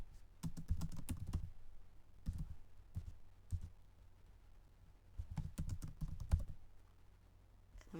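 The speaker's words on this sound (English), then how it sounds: "when you're done typing it," Bursts of rapid clicking keystrokes on a computer keyboard, fairly close and moderately quiet, arriving in several short clusters separated by brief pauses, with no talking.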